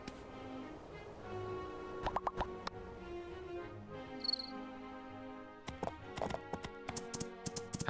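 In the video game Portia, a horse's hooves clip-clop in quick, light, evenly spaced taps over a looping musical backdrop. The steps come in short runs, with a few chime-like game sounds and no talk.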